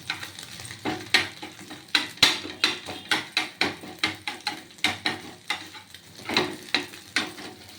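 An egg omelette fries in a little oil while a utensil scrapes and taps the pan in a quick, regular rhythm of close, sharp strokes over a soft sizzle.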